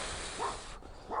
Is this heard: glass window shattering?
no